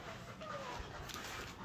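A dog whimpering quietly in short, high, thin whines over faint background noise, a few brief plaintive cries across under two seconds.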